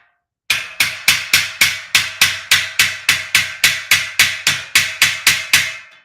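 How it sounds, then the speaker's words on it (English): A hammer strikes a steel shelving unit during assembly, about twenty sharp, evenly spaced metallic blows in a fast steady rhythm, loud and close, with no talking. "But I need my hammer."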